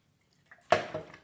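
A spoon stirs water, sugar and coffee grounds in a glass: a small tap, then one sharp clink followed by a brief swirling scrape that fades, heard close with no talking.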